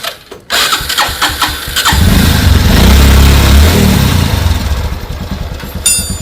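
A motorcycle engine cranks and catches, then settles into a loud, rumbling idle close by, with a clatter near the end.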